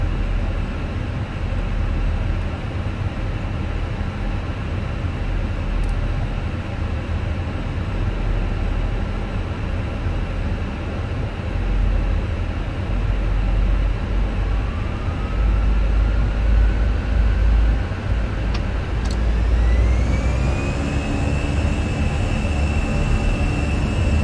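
Airbus A320 taking off in the Fenix flight simulator game: a steady, loud engine roar holds throughout, with a rising whine climbing in pitch toward the end as thrust builds and the aircraft rotates.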